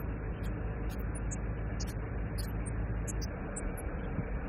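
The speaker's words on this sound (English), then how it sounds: "it's a bit of farm machinery whirring" Farm machinery whirring out in the fields beside a river, a steady, faint, low mechanical drone with no breaks, heard alone with only a few tiny high clicks.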